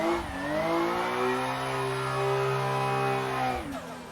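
A car engine in the Assetto Corsa racing game holds a high, steady rev through a drift and then drops off sharply near the end, loud and alone.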